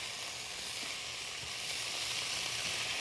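Green onions and food sizzle steadily in a hot pan on the stove, a constant bright hiss of frying that stays even and close throughout with no talking.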